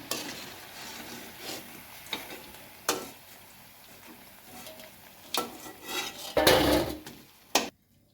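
Kara bonda fritters lifted from hot frying oil at a tea-stall style kitchen, soft sizzling under sharp clinks and scrapes of a ladle against the pan, several distinct knocks, no talk.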